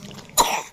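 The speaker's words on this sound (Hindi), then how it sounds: "नहीं तेरे को खांसी" Sick young girl gives a single short, sharp cough, close and fairly loud, after a moment of quiet.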